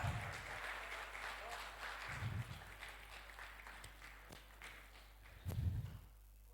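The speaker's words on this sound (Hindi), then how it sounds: "हितैषी राजपूत के लिए एक बार जोरदार तालियां।" An audience applauds a little girl, Hitaishi Rajput, being honored with a memento at a school literary event; a steady wash of clapping runs throughout, swelling near the end, with a voice talking over it.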